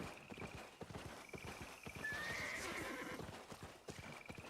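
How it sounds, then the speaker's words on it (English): A dwarf horse in an open-world video game clops along with quick, even hoofbeats, then lets out a clear bright neigh midway, all fairly quiet and without talk. "Dwarf horse."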